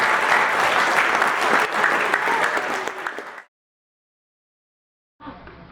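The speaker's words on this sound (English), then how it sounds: "it deserves recognition and a great applause" An audience at a speech competition claps loudly for the competitors, a dense, even burst of applause lasting a few seconds before cutting off to silence, then a faint return of room sound.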